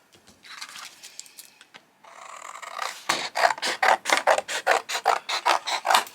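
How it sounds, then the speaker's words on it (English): Plain white card trimmed with scissors or a blade, a soft rasp at first, then a run of about a dozen crisp, evenly spaced cutting strokes close up, with no talk. "so I'm just going to trim that down."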